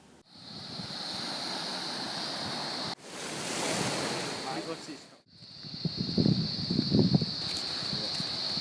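Ocean surf rolls onto the beach at Ulladulla on a hot day, a steady broad wash with wind buffeting the microphone, one surge cutting in mid-way and faint voices underneath.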